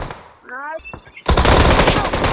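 Automatic gunfire in PUBG Mobile erupts as a loud, dense, continuous burst after a brief voice and some game sounds.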